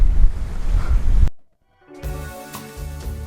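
Ocean surf rolls onto a long sandy beach on Barbuda, a loud rush of wave and wind that cuts out abruptly, then returns more softly after a brief silence.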